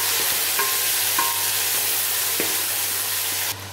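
Tomatoes frying with browned onions in a pan for a fish gravy, a loud continuous sizzle with occasional scrapes of the spatula as they are stirred, steady throughout before it cuts off abruptly.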